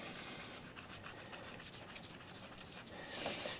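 Close, steady rubbing of fine sandpaper on a ceramic plate's chip repair to level it, a continuous gritty hiss with a slight swell near the end and no voices.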